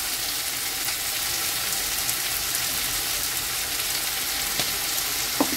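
Taco filling frying in a pan with black pepper and oregano, a steady close sizzle with a few faint stirring clicks and no voices.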